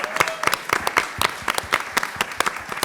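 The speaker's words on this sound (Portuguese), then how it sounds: "Uma salva de palmas." A cinema screening audience claps briefly, with distinct, fairly close individual hand claps in a lively, uneven rhythm over a few seconds.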